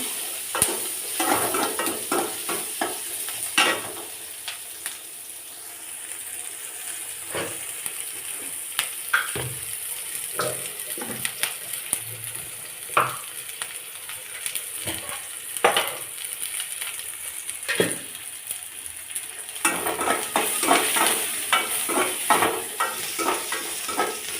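Onions and curry leaves sizzle steadily in a hot pan for pasta, with repeated scraping and stirring clicks of a spoon against the metal, close and moderately loud, no talking.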